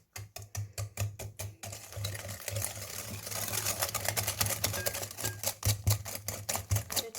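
Butter, sugar and eggs being mixed into cake batter: a fast, rhythmic mechanical rattle over a low motor hum, loud and close, with the beat turning busier and more tangled partway through.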